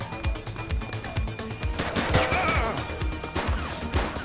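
Rapid bursts of video game gunfire crack out in a continuous volley, loud and close, with sharp repeated shots and clattering impacts layered over a steady background mix.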